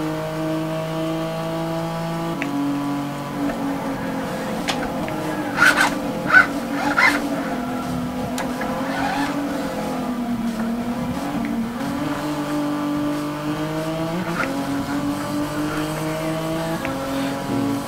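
A Nissan GT-R LM Nismo turbo racer in Gran Turismo 6 during a GT Academy 2015 final round, its engine droning and rising through gear changes with brief tire squeals, loud and continuous.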